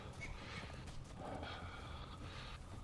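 A horse gallops in the video game Conan Exiles, giving a quick run of muffled hoof clops under game ambience, with a brief whinny-like tone, close and steady.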